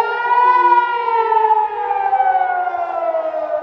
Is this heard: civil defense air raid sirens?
yes